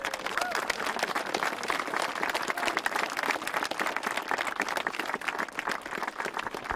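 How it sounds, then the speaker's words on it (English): A crowd at a Division 5B league final football match applauds the Dunsany team with steady, dense clapping that lasts throughout, fairly close and loud. "So I'll just give an applause for Dunsany."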